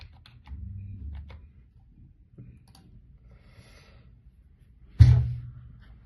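A computer keyboard is typed on while entering vehicle chassis number digits for a Haryana road tax payment, with a few soft scattered clicks and one sharp, louder tap near the end, all close and without speech.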